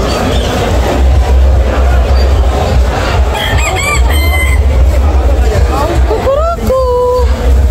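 Rooster crows ring out over a loud, busy background of crowd noise and chatter at a poultry market, with clucking fowl of various breeds nearby.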